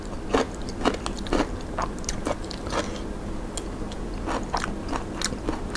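Close, crisp crunching bites and chewing of vegan food such as enoki mushrooms, Hong Kong kale and seaweed salad, a quiet irregular series of snappy crunches with no talk.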